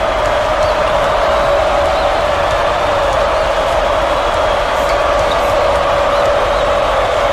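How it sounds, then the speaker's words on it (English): A dense basketball arena crowd roars without a break, a loud sustained wall of cheering and shouting that never dips. "This crowd is going insane."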